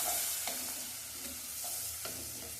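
Onions sautéing with curry leaves in a pan make a soft, steady sizzle, fairly quiet and close, with a few light clicks and scrapes of a stirring spoon, and no one talking.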